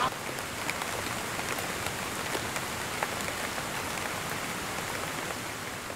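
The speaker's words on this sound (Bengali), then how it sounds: "মুষলধারে বৃষ্টি হচ্ছে, এই বৃষ্টিতে ভিজতে ভিজতে যাচ্ছি সুইমিং পুলে সুইমিং করতে।" Heavy rain pours down outdoors near a swimming pool, a dense, steady hiss of countless drops striking surfaces without a break.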